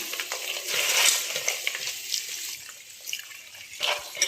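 Herbs for a homemade herbal hair shampoo being rinsed and swished by hand in water, with splashing and trickling that rises and falls unevenly over a few seconds, close by with no talking.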